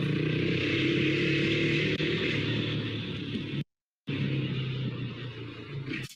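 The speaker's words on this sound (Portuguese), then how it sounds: "O motoca faz entrega de comida com sua recém-comprada Honda Fan 160 cilindradas" A nearly new Honda Fan 160 cc motorcycle used for food delivery drones steadily with a constant engine hum and faint revving. The sound cuts out briefly, then resumes at a similar level.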